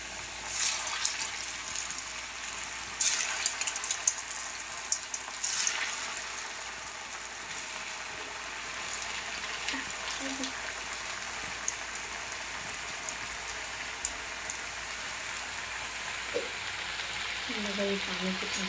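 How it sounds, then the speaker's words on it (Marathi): Cut pieces of food fry in a pan with a continuous hissing crackle, fairly soft and steady throughout, with faint scattered pops and a voice briefly audible underneath. "आता तळायची।"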